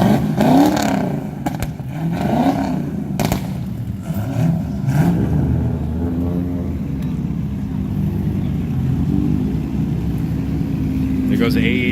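A Toyota AE86 at a night-time drift meet revs and drives past, its engine note rising and fading amid crowd chatter, with people talking over the sound throughout.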